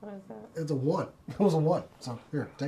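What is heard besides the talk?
None of the usual background noises is heard.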